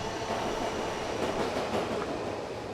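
A Washington Metro Silver Line train rumbles along in a steady, loud, continuous roar of wheels and rail noise, close by, with no voices heard.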